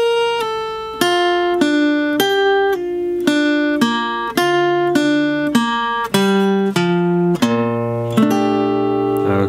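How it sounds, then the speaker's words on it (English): A slow jazzy lick on acoustic guitar: a sequence of about a dozen clear, ringing plucked notes and chords, evenly paced and loud, played alone with no talking. "Then I'm gonna play this jazzy lick."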